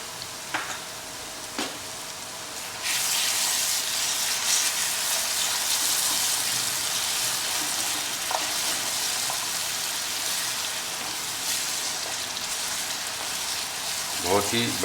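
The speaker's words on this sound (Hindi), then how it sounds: "इस पेस्ट को डाल देते हैं और इसका बढ़िया भुनाव करेंगे 2 बार" Masala paste for a Rohu fish curry sizzling and frying hard in a hot pan, a loud steady hiss that starts abruptly after a few quiet stirring knocks and runs on continuously with occasional spoon scrapes.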